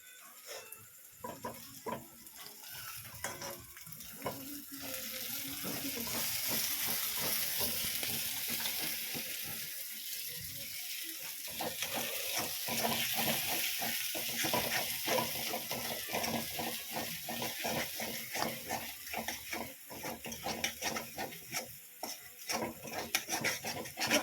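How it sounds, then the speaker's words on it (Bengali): Potatoes fry in a pan for a chicken dish, with a steady sizzle running throughout. A spatula scrapes and stirs them in frequent rhythmic strokes, close by and at a moderate level, and no one speaks. "আলুগুলো ভাজা হয়ে গেছে নাকি"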